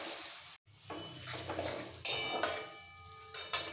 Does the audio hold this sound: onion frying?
yes